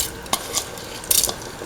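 Spoon stirring a rice mixture with ivy gourd, green peas and coconut milk in a cooking pot, a few scraping clinks and soft wet swishes at close range, no talk.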